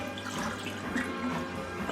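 Water pours into a measuring cup while making homemade pizza dough: a soft, continuous close-up trickle and splash lasting about two seconds, with no talking.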